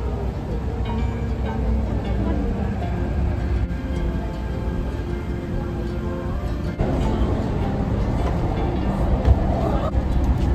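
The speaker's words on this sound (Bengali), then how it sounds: "সেখান থেকে মেট্রো ধরলাম টুংচাং স্টেশনের উদ্দেশ্যে।" Loud, steady rumble and rattle of a crowded Hong Kong metro train ride, continuous throughout with a slight surge partway, no talking.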